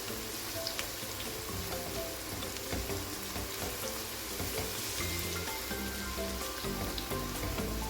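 Minced goat keema frying in a pan at an Irani-style Mumbai hotel kitchen, a steady dense sizzle and crackle that runs unbroken and fairly soft throughout, with no voices.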